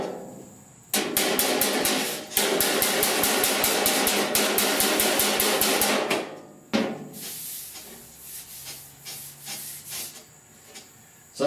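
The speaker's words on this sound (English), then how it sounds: "I got this hammer right here that you make little dimples in there, and sometimes it'll shrink" A hammer raps sheet metal in a fast, even burst of sharp metallic strikes for several seconds, raising dimples to shrink the panel, then a few scattered, quieter taps follow.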